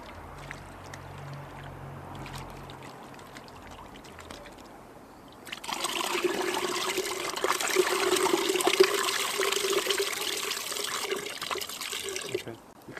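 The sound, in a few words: water swirling and draining out of a bottle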